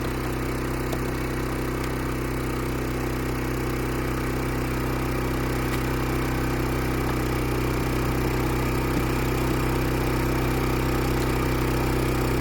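A portable generator hums steadily beside a camper trailer, a constant mid-pitched engine drone with no breaks, close and moderately loud throughout.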